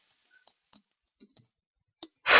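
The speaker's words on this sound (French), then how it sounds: "Vous devez peut-être entendre le bruit de mon clavier." Sparse, sharp clicks of computer keyboard keys tapped one at a time in a quiet room, followed by a sudden burst of hissing noise at the end.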